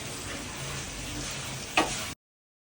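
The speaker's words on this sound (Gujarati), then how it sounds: "આમાં હવે આપણે બટર નાખ્યું છે, જિંજર અને મરચી, એનો આપણે વઘાર કરવાનો છે." Continuous close-up sizzling of ginger and green chili frying in hot butter, with a brief clink partway through before the sound stops abruptly.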